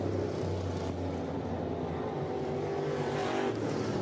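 Late model dirt race car number 94 working through a corner at All-Tech Raceway's half-mile speedway, a steady loud engine roar holding through the turn with a harmonic drone and no talk over it.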